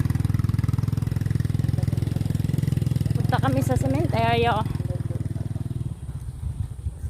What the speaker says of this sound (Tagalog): yung motor na gamit namin pang travel.